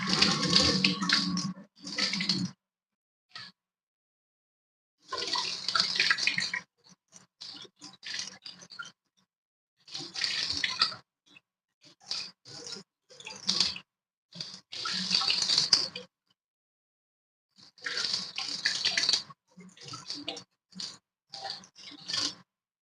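Pansit-pansit (shiny bush) greens rinsed under running tap water, bursts of splashing and rustling handling that start and stop in irregular stretches, close to the microphone.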